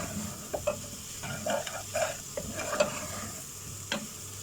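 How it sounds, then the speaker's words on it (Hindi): Chicken mixed with egg is stirred in a hot frying pan for street-style chicken fried rice, with repeated spatula scrapes and taps over a steady close sizzle. "चिकन को भी अंडे में मिक्स कर देना, मिक्स करके चलाना दोनों को एक साथ।"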